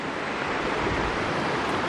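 A mighty river rushing at the junction where a creek flows into it, a steady broadband roar of moving water with some wind, continuous and close, no voices.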